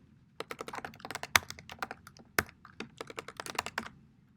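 Keystrokes on a computer keyboard while a header is typed into a Google Docs document, with bursts of crisp clicks, a couple of louder thumps, and short pauses between words, heard close and alone.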